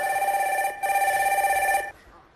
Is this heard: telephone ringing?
yes